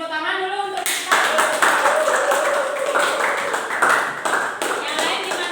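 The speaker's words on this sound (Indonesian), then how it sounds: "Kasih tepuk tangan dulu untuk kita." Clapping from a class of students breaks out after a brief spoken lead-in and carries on steadily, close and fairly loud, with a voice and some tonal sound heard faintly over the claps.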